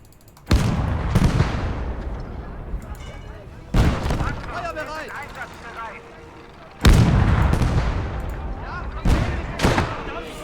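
In the video game Legion of the Damned, an LEIG infantry gun fires three heavy, booming shots a few seconds apart, each a loud blast followed by a long rumbling decay.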